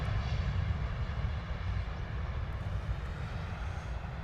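Ryanair airliner landing at London Stansted Airport, a steady loud engine roar with heavy low rumble held throughout, no voices over it.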